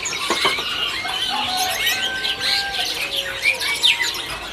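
Several robins chirp and tweet continuously at a bird shop kiosk, with bright overlapping whistles and quick trills, fairly loud and close, no voices.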